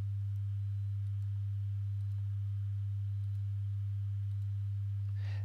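Two sine wave test signals summing after one has its polarity flipped while half a cycle apart, giving a steady, loud low pure tone that holds unbroken for about five seconds with a faint click near the end.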